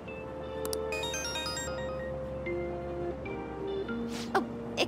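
A phone ringtone sounds in Persona 5 Royal as a father calls, playing a soft melodic chiming tone over quiet background music, with a few sharp clicks near the end.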